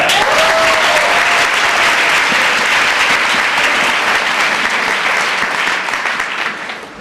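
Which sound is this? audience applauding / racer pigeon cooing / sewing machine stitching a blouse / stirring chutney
audience applauding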